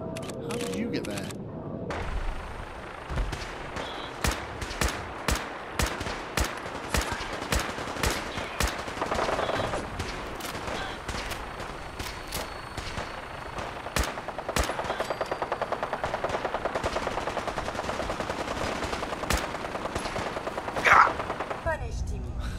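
Gunfire in the video game Fallout 4 played in Survival Mode: dozens of sharp, loud shots crack in uneven bursts and rapid runs, some quickly repeated like automatic fire, under a constant bed of game noise, with a voice talking at times.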